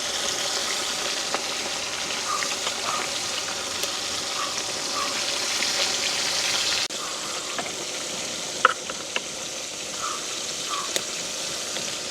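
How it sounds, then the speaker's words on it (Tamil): Fish coated in salt and turmeric frying in hot coconut oil, a steady close sizzle and crackle with a few faint pops and bubbles throughout, no voices. "நாங்கள் உப்பு மஞ்சள் எல்லாம் பிரட்டி வச்சுருக்கிற மீன் எல்லாம் போடுவோம் பொரியறதுக்கு"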